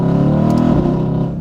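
An older Mercedes-AMG car with a stage 2 tune and downpipes pulls hard under acceleration, its loud engine note droning with strong, layered tones close by, and no talking.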